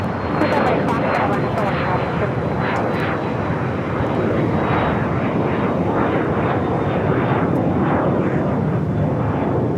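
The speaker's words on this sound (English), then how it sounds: "Good look of United A320 arriving just over our heads on the Tuesday show" A United Airlines Airbus A320 passes low overhead on arrival at Los Angeles International Airport, a loud, steady jet roar with rushing wind noise that holds strong throughout.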